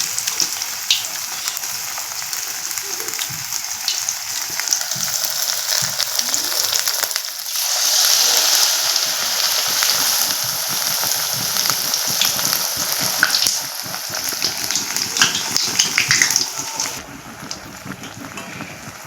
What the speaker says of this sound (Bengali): এখন এই তেলটাও গরম হয়ে গেছে, তেলের মধ্যে আমি দিয়ে দেব।